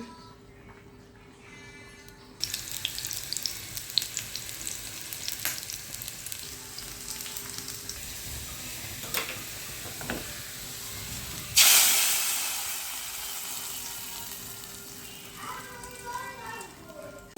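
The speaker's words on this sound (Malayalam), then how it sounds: "മത്തി പൊരിക്കാനിട്ട്" Sardines frying in hot oil in a pan, a continuous crackling sizzle with a sharp, loud burst of spitting partway through, heard beneath intermittent speech.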